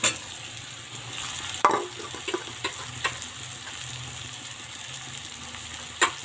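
Garlic, ginger and spices frying in a pan make a low, steady sizzle, with a few sharp clinks and knocks of a utensil or bowl now and then.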